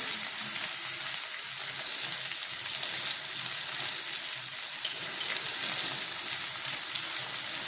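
Bell pepper (shimla mirch) and tomato sabzi with turmeric cooking in a pan, a continuous even hiss of sizzling with faint scraping, close and steady throughout.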